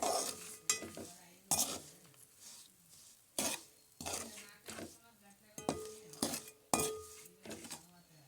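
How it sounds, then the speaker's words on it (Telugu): A metal spoon scrapes and clinks against a pan while fried cauliflower pieces are stirred together with salt and spices, in repeated short strokes with soft sizzling between them. "ఇప్పుడు ఇందులో వేయించిన కాలీఫ్లవర్ ముక్కలు వేసేసుకుని ఇది మొత్తం కలిపేసుకోవాలండి"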